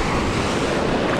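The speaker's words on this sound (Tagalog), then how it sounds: "Grabing alon, lalaki eh." Big ocean surf on the Palawan coast, a steady loud roar of breaking waves with wind buffeting the microphone throughout.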